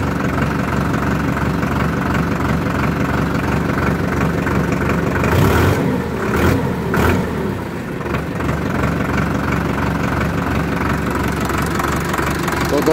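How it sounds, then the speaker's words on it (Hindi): A Sonalika 750 tractor engine runs at a steady idle after being started, its low rumble knocking continuously, with a brief louder surge midway as it catches. "तो दोस्तों, ट्रैक्टर हमारा स्टार्ट हो चुका है।"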